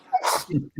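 A person sneezes once, sharp and close, a short burst that cuts through a quiet indoor conversation, followed by a brief voiced sound.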